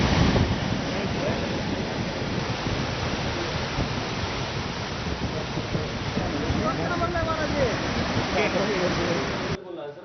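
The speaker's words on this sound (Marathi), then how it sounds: "जोरदार पावसाने हजेरी लावली, त्यामुळे तेरणा धरण तिकडे ओव्हरफ्लो झालं" After heavy rain, water pours over the Terna dam in a dense, continuous roar that rises and falls slightly, with wind noise on the microphone; near the end voices speak faintly under the rushing water.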